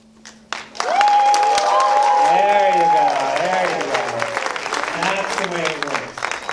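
A live studio audience at a stage show taping applauds steadily with dense, continuous clapping. A voice talks over the ovation throughout.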